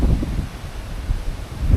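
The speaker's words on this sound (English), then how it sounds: "I'm at Narrowneck Lookout and it's really windy" Strong wind gusting at Narrowneck Lookout, heavy low rumbling buffeting with rustling, loud and close, surging and easing over a couple of seconds.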